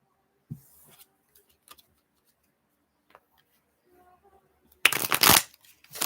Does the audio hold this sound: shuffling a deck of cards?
yes